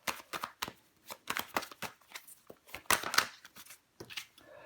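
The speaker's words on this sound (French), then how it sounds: "Alors, je vais recouvrir des cartes." Tarot cards shuffled, flipped and laid out on a table during a reading, a close series of quick papery slaps, rustles and flicks coming in uneven bursts, with no talking over them.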